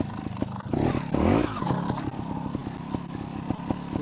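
Trials motorcycle engine on a rough outdoor practice spot, blipped in two quick revs that rise and fall, then settling to a clattery idle, close and fairly loud.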